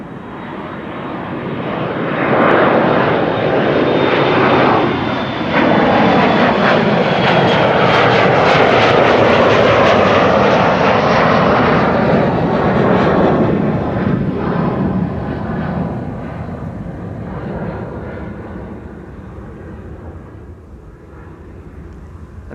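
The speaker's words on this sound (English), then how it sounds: "This is KLM Flight 1201, and it looks like we're going to see another Embraer after that. This is an Embraer 175, an Embraer." A KLM Embraer 175 regional jet departs Amsterdam Schiphol, its engine roar rising over a few seconds, holding loud and steady, then slowly fading as it climbs away, with no voices.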